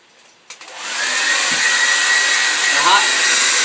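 A blow dryer switches on and runs at a steady, loud whoosh, heating a vinyl floor tile while a putty knife is used to lift it, with a few small bumps early and no speech.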